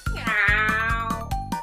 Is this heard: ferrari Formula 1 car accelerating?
no